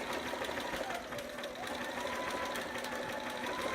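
A sewing machine runs a steady back-stitched quarter-inch seam for a romper, a close, continuous mechanical whir with rapid needle chatter and no pauses.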